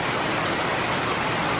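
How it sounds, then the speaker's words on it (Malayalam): Heavy rain falls at night as a loud, unbroken wash of noise that fills the scene, with no voices. "ഇപ്പോൾ അതാ നല്ല മഴ"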